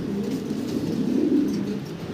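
A pair of Roman gall pigeons coo in a low, continuous throaty murmur close by, soft and steady without any talk.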